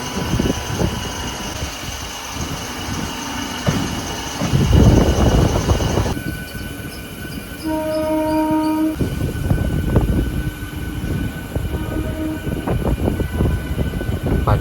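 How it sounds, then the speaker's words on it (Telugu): A train runs along a parallel track near Guntur, a steady rumble and clatter with a horn sounding in a held two-tone blast midway, heard from aboard a Vijayawada–Guntur passenger train. "మనకి ప్యారలల్గా ఇంకో ట్రైన్ రెడీ అవుతుంది"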